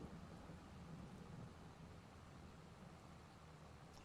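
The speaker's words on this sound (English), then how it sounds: "sounds like the thunder you would get in the mountains" Thunder during a rainstorm in the farming game Farming Simulator 22, set in a mountain area: a low, continuous rumble under a steady wash of rain, very faint and distant, with no talk.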